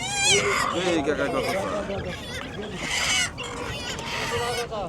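At a village market, chickens and roosters cluck and squawk nearby in overlapping bursts, with people talking among them.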